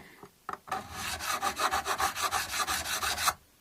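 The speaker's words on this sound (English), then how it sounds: "As long as you don't grind the fret any lower" A file rasps back and forth across the frets of a Schecter Synyster Gates guitar to level them, about a dozen quick rhythmic scraping strokes after a couple of light taps, close and alone.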